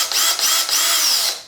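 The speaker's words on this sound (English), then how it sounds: "So now I'm going to try to drill a little hole" A power drill bores a small hole through old book boards, a close, loud whine that dips briefly twice before running steadily and then winding down at the end.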